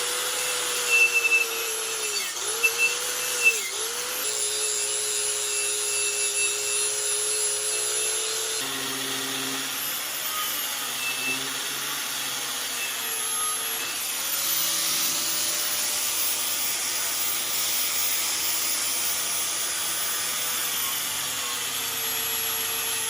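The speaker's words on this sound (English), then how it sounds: "Got that wheel on my grinder, and definitely gonna wear a respirator" A grinder wheel strips old paint from cast IH tractor wheel weights, giving a steady high whine that dips in pitch each time the wheel bites into the metal, continuous and fairly loud, with no talking.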